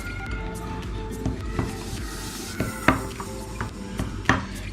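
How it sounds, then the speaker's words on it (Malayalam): Chicken marinade of lemon juice, vinegar and water being mixed by hand in a bowl for a banana-leaf chicken dish, with soft stirring and scattered light clinks of a spoon against the vessel, no talking. "നമുക്കിനി നന്നായിട്ടൊന്ന് മിക്സ് ആക്കി എടുക്കാം"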